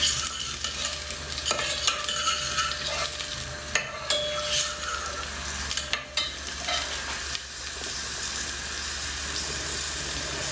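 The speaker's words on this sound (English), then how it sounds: "Stir it." Onion and garlic stirred in a hot pan for carrot soup, with a steady broadband sizzle of frying under repeated scraping strokes of a utensil across the pan, close and continuous with no talk.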